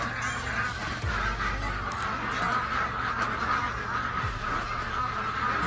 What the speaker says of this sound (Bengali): এগুলো হাঁস।